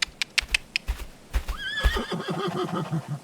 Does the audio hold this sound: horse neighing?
yes